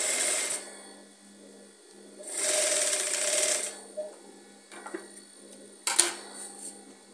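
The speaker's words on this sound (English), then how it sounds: "So I'm placing the center back with the side back, and I'm going to be sewing together" A sewing machine stitches the center back and side back panels of a scissors-neck basque corset blouse, with two sustained runs of whirring stitching at moderate volume, separated by quieter handling clicks and fabric rustle.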